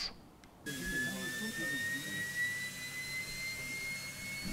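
A Turkish-built KTJ3200 / TJ300 turbojet missile engine running on a test stand, starting with a sudden loud roar that then holds steady with a high whine slowly rising in pitch, close and alone.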